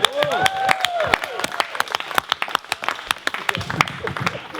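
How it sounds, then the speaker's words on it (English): Wedding guests clap after a speech. Sharp individual claps come in a loose, scattered burst, close and fairly loud, with a voice heard at the start. "I'd like to give you a big round of applause"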